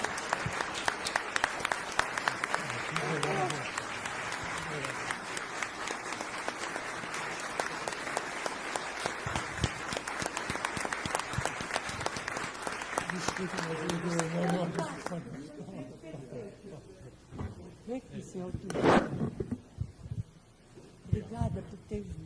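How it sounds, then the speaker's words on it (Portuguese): An audience at a special session celebrating FINEP's 50th anniversary applauds in honour of José Pelúcio, a long, dense burst of clapping with voices underneath, cutting off to quieter room sound and scattered noises near the end. "Eu pediria uma salva de palmas aqui para o José Pelúcio."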